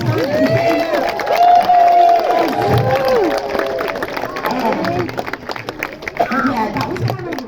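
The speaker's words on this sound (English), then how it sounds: "you're going to give him a great big cheer. Loads of clapping." Audience at a sea lion show in a West Midlands safari park cheers and claps loudly, a dense crowd roar with whistles and shouts swelling early then easing, steady applause continuing underneath.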